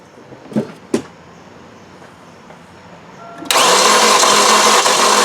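Cranking of a 1999 Pontiac Grand Am 2.4 engine that is running rich with a rough idle, a loud steady whirring that starts abruptly after a couple of faint clicks and continues close by.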